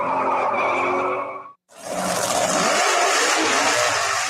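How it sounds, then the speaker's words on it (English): Dragster roaring down the road, an engine blast that cuts out abruptly to a brief silence, then a loud burst of revving and squealing tires. "that was the sound of a dragster going down the road"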